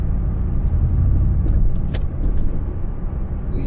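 Pontiac G8 GT engine pulling hard and downshifting, a steady loud low rumble heard from inside the car with a brief throttle blip partway through.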